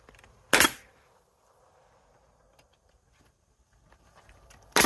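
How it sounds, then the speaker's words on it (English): A staple gun fires twice while fastening material to a pole barn window, two sharp close snaps about four seconds apart with faint handling noise between them. "I just staple it on with a staple gun."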